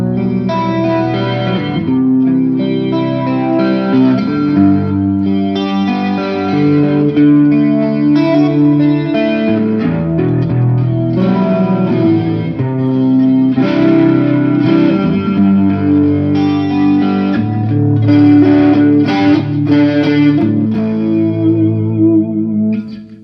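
Electric guitar played as a blues lead through a Fender Mustang LT25 amp with reverb and chorus, a sustained, effects-washed line ringing continuously at steady loudness with no talking.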